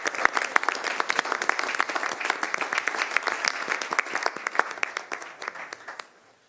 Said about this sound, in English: let's give them a big round of applause for being here this evening